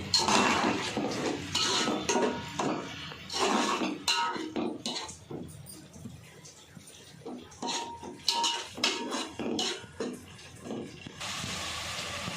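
A spoon clinks and scrapes against a metal dish as chili powder and salt are mixed into chicken for biryani, in close irregular bursts with quieter gaps.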